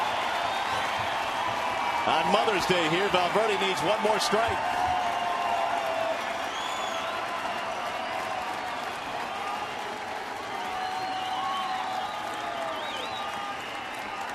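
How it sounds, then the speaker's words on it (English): Baseball stadium crowd at Comerica Park in Detroit, Cleveland at Detroit, cheering and roaring steadily through the clip, swelling early then holding as a broad wash beneath a play-by-play announcer talking. "Here comes the crowd."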